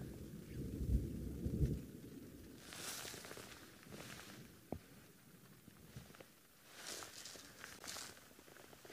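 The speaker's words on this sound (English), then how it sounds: "if you can hear the rather deep booming thunder in the background" Deep, distant thunder booms from a rumbling storm on an evening safari near an elephant herd, a heavy low roll early on, then quieter crackles, rustles and soft pattering scattered over a faint background.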